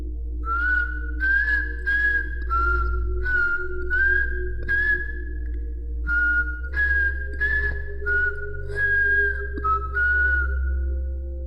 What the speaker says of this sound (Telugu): ఎవరో విజిల్ ఊదుతూ మ్యూజిక్ హమ్ చేయడంతో